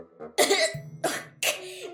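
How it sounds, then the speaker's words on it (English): Three harsh coughs in quick succession, close and fairly loud, with a raspy, sputtering quality. "Dash sat up, sputtering and coughing."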